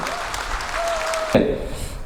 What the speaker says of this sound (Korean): 여러분 박수 한번 보내주셔야죠